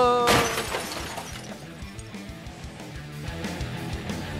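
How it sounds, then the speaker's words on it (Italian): A cartoon police van crashes through a roadblock during a chase, opening with a loud glassy shattering crash, then a scatter of rattling debris and clattering hits fading under a busy background. "Hanno abbattuto il posto di blocco!"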